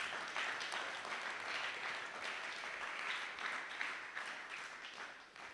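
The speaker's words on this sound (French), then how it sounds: "Acclame encore pour la gloire de Jésus." Church congregation at a Sunday worship service applauding, a continuous wash of clapping from many hands that swells slightly and then begins to fade, with no voices over it.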